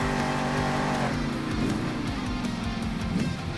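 A monster truck in Monster Jam Steel Titans 2 roars loudly and continuously during an arena freestyle run over crushed cars, with the engine rumbling and revving in a heavy, rough drone.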